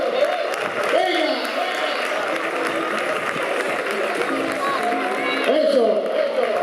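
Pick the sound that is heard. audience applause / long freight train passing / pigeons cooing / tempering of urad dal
audience applause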